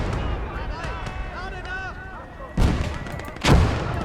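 Mortar and artillery fire in a World War II strategy battle, with two heavy booming blasts landing close together near the end, after a stretch of distant rumbling combat and whistling tones.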